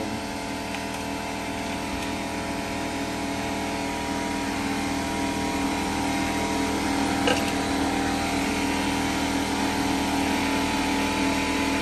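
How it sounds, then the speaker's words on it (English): A workshop air compressor runs steadily, building up pressure with a constant droning hum and layered mechanical whine that holds level and slightly swells over the stretch, with no talking. "I'm waiting for my air compressor to build up"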